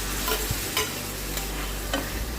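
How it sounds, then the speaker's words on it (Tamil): Cleaned chicken pieces go into a pan of well-sautéed ginger-garlic paste for chicken masala, giving a steady close sizzle broken by a few stirring scrapes, with no talking. "இப்போ நம்ம சுத்தம் பண்ணி வச்சுருக்க சிக்கன் துண்டுகள் எல்லாத்தையும் இதில் சேர்த்துடலாம்."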